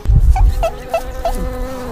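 Wasps from a nest swarm and attack, producing a loud, close insect buzz with several short rising whines in a quick sequence, over a few low thumps at the start.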